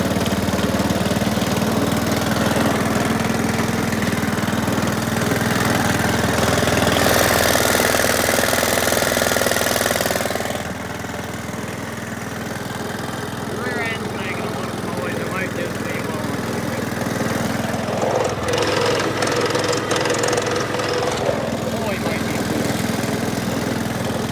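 A John Deere STX 38 lawn tractor engine runs steadily and close by for the whole stretch, a loud continuous drone that dips slightly partway through, with a voice talking over it.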